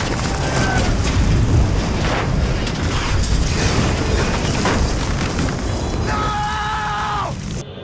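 Gunfire and explosions from a battle scene in The Incredible Hulk film, a dense, continuous roar of booms and blasts with a brief mechanical whine near the end.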